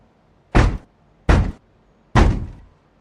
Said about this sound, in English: Again, 3 slow knocks, spaced apart, each one echoing in the stillness of my apartment.